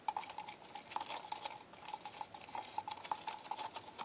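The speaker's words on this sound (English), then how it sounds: "give it another stir. You want to have it be really well mixed." Resin being stirred in a cup, a steady scraping swirl with small repeated clicks of the stick against the sides, close and fairly quiet, no voices.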